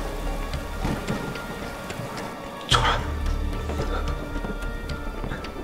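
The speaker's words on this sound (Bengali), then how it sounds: "বৃষ্টি হচ্ছে, ভয় পাবে।" Steady rain pours down in a dense, even hiss, broken midway by a single brief sharp crack like a close thunder clap, with no speech over it.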